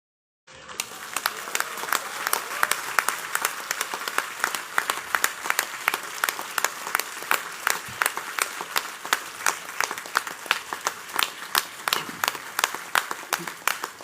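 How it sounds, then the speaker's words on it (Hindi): Audience applause greets Amitabh Bachchan at a public event, a dense steady clapping that starts abruptly and keeps going at full strength for the whole stretch, near and loud with no voices over it. "ये अमिताभ बच्चन के लिए तालियां हैं"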